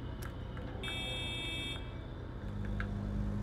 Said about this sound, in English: Just honk your horn.